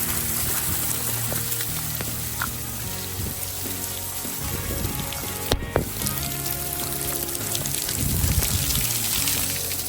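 Water pours and trickles inside a cave at Siddhagad fort during the monsoon rains, a constant nearby splashing stream with a few louder spatters and a heavier surge toward the end.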